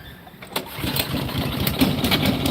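A small engine is cranked and catches, a few sharp cranking bursts giving way to a steady, rough running rumble that continues at moderate loudness to the end.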